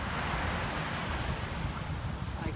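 Waves washing onto a beach, a constant loud roar of surf with wind rumbling across the microphone.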